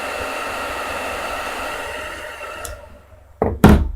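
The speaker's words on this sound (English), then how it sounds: "Then I'm going to use my hair dryer to heat my nail again" A hair dryer blows with a steady, close whooshing hum for nearly three seconds, heating a nail wrap, then cuts off, followed by a couple of sharp thunks.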